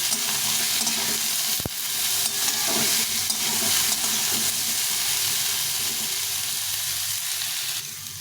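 Vegetables frying in a pan make a steady, loud sizzle and hiss with a few stirring scrapes and a sharp clack near the start, with no voices.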